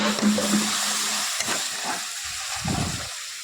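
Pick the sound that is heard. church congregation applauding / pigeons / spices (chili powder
spices (chili powder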